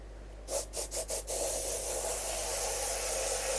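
Lacquer sprayed onto a wood-turned vase from an aerosol can: four short, close hissing bursts in quick succession, then one long steady spray that continues to the end.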